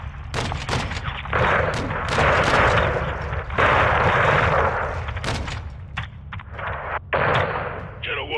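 A 40mm gunship cannon pounds a building in a Call of Duty game, with heavy booming impacts and long rumbling roars of debris. Several sharp blasts punctuate the sound, and brief radio chatter cuts in between.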